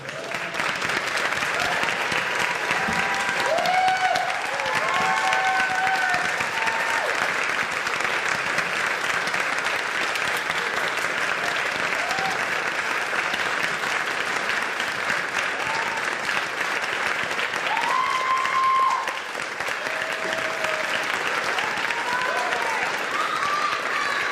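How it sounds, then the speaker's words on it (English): An audience at a school district board meeting claps steadily and fairly loudly for a group facing the room, with a few voices calling out over the sustained applause before it tapers near the end. "turn and face the audience, mostly for a picture, but also so we can clap for you"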